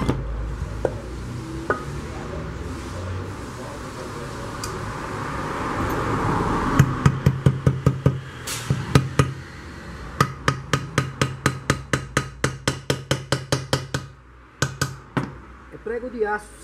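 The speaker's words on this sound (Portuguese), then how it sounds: "Vamos bater um preguinho aqui primeiro." A steel nail is hammered into a pan handle with loud, sharp metallic blows. A few scattered strikes come first, then rapid steady runs of hits. Background noise and some talk sit underneath.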